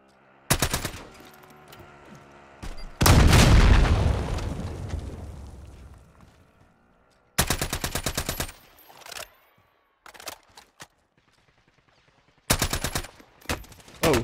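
Bursts of automatic gunfire and a large explosion in a video game firefight, rapid rattling volleys separated by pauses, one heavy boom rolling off for several seconds, loud and close.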